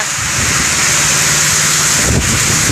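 Morning rain falling on a rooftop terrace, a loud steady broadband hiss with no breaks, close and continuous throughout.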